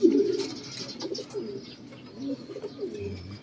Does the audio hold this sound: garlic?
no